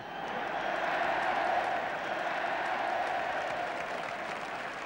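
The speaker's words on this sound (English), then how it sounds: "getting a tremendous round of applause from the crowd here" Crowd at a 1970s-era English football match, Spurs against Nottingham Forest, gives a sustained, dense round of applause, steady and fairly loud throughout, with no voices standing out.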